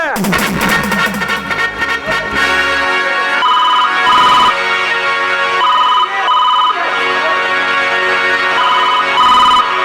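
A repeating electronic telephone ringtone trills loudly and steadily during a stage play, with short gaps between bursts, filling the whole stretch with no voices.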